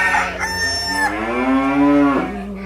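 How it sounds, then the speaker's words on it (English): A cow and a sheep fighting on a farm, giving long, drawn-out bellowing and bleating calls that overlap and rise and fall in pitch, close and fairly loud with no talking. "Here's Lurleen, the cow, fighting with the sheep again."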